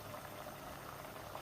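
Water boils over high heat in a pot of rice for palau (plov), a faint, steady bubbling simmer heard alone at close range.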